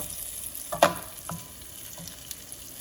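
Steak searing in oil in a pan, a faint continuous sizzle with a few soft clinks and stirring touches, no talking.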